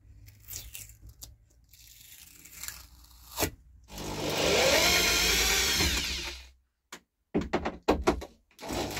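Electric drill working in a camper van during repairs, one steady whirring run of about two and a half seconds, loud and close, set between bursts of scraping, tapping and handling noise.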